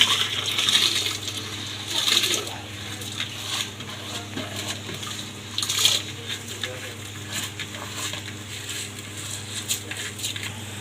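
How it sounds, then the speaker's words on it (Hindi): Rice is poured into a large open pot of boiling water while jaggery rice is being made. Scattered bursts of patter and splashing rise over steady bubbling and a low, constant hum. "अब हम इसमें अपने चावल डाल देंगे।"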